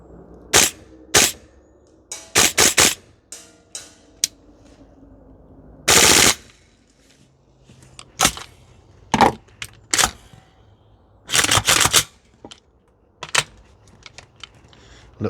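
A CYMA CGS MWS gas blowback airsoft rifle fires full auto on an outdoor range, with short rapid bursts and single shots at irregular intervals, close and sharp, between stretches of quiet.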